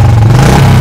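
A Royal Enfield Bullet 350 motorcycle in glossy black idling close by, a loud, steady low thump with an even rumble and no voices.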